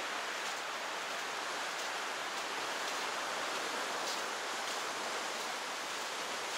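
Seawater flows in at a beach on Koh Rong island, a steady, even wash of broadband noise heard at moderate distance with no voices.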